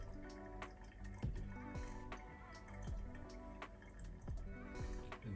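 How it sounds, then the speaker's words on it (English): Water drains through a bed of filter coffee as a soft, close trickle with quick drips and small gurgles, faint and continuous, with no voices. "leaving the water to drain fully, so we've got a slightly drier bed at the end"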